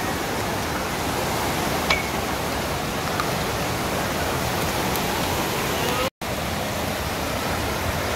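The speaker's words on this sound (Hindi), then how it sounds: "इस झरने की आवाज को आप भी" A waterfall in Gulmarg, Kashmir, rushes as a loud, dense, unbroken roar of falling water that fills the scene, with a faint click or two over it and a brief dropout near the end.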